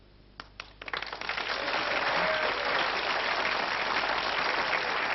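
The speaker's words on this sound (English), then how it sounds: "There you go. Applause." A novelty gadget plays recorded applause: a few sharp clicks, then a thin, tinny burst of sustained crowd clapping that carries on steadily.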